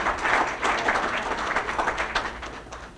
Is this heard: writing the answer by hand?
no